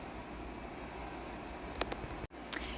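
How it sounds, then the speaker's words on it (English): Air conditioner running inside a bedroom, a steady broadband hum and hiss filling the room, with a couple of faint clicks and a brief dropout near the end. "it is my AC inside my room"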